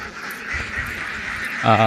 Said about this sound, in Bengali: আর এই দেখেন ফার্মের পাতিহাঁস।